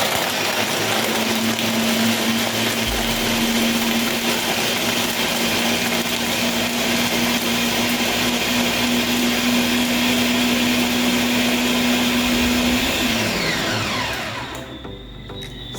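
Blender running on medium while making an avocado banana smoothie, a loud steady motor whir with a sustained hum that winds down near the end.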